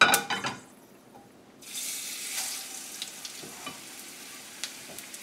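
Sesame-crusted tuna steaks searing in a hot pan, with a brief clink and shuffle at the start, then a sudden sizzle that holds steady and fairly quiet with small pops.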